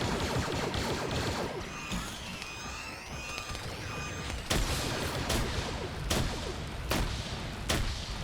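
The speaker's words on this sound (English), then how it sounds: "There's a lot of grenades that just got thrown, good God" Chaotic Star Wars Rebels game battle with a run of sharp blasts and bangs from thrown grenades, heavy and dense, spaced explosions punching through a constant roar of blaster fire and sci-fi whines.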